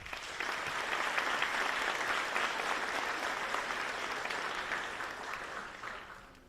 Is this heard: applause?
yes